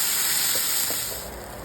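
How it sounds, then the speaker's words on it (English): Frozen sweet corn with garlic sautés on a low flame in a pan, giving a steady, soft hiss that tapers off slightly toward the end. "Now on low flame, saute for 5 minutes till the sweet corn is cooked and dry."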